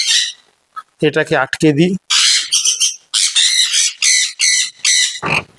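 Pet sun, sun-cheek and pineapple conures squawk in a home aviary setup, with loud, harsh bursts close by and a person talking between the calls.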